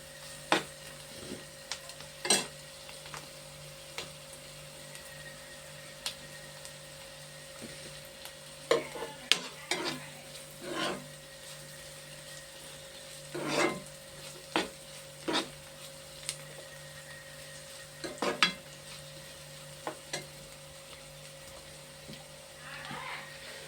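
Ripened gourds frying and being stirred in a pan, a faint steady sizzle punctuated by repeated scraping clicks of the spoon at irregular intervals, with little talk.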